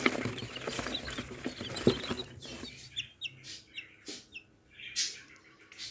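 Young chicks hatched in an incubator chirp in short, high, bright peeps, scattered and fairly close, with a busier, noisier stretch at the start before the calls turn sparse and distinct.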